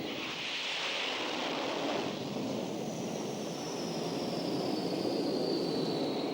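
A jet aircraft is flung off an aircraft carrier deck by a steam catapult, heard as a steady, loud, broadband engine roar and rushing wind, with a thin whine sliding slowly downward as the jet pulls away.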